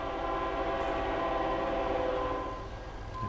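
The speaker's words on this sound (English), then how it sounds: "Now we can obviously also hear the train." A train passes in the video game American Truck Simulator, a steady loud rumbling roll with tonal hum and a horn-like drone that eases off toward the end.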